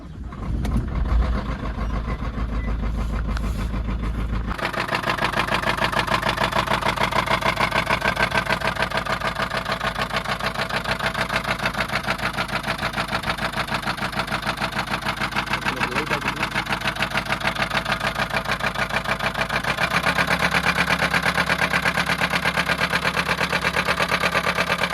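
A Mahindra XUV500 diesel engine idles steadily with an abnormal mechanical noise, a continuous loud drone that runs throughout after a rough start and shifts in tone slightly near the end.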